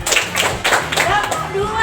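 Classroom students clap together in a few quick, loud bursts, close and sharp, with a voice audible in the room.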